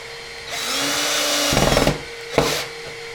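A power drill drives screws into the frame of a twin XL daybed with storage drawers: a long whirring run, then a louder, stuttering burst as a screw seats, and a brief final spin, all close up with no talk.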